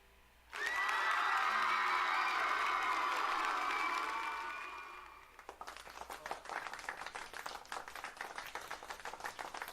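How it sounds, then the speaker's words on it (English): A loud applause sound effect with cheering and whoops from a crowd roars for about five seconds, then fades into steadier, quieter clapping that continues to the end. "I hit the loud applause instead of the poetry applause."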